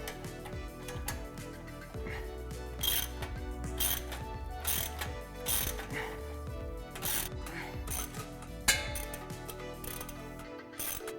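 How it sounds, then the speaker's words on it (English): A ratchet with a 15mm socket tightens exhaust band clamps on a 2015-2019 Ford F-150 cat-back exhaust install, close rapid clicking bursts in repeated strokes with brief pauses and a sharp knock near the end. "go ahead and go through and tighten down all your band clamps using a 15mm socket"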